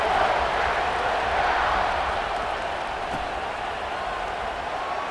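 Stadium crowd roaring and cheering in the EA Sports College Football 26 video game, a steady, dense wash of noise just after a kickoff, filling the whole stretch.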